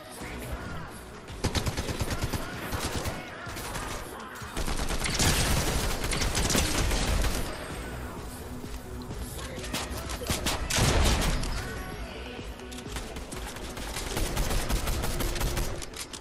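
Sustained bursts of rapid gunfire in a Fortnite Battle Royale match, loud and continuous over most of the stretch, with brief lulls and mechanical clatter between volleys and faint voices underneath.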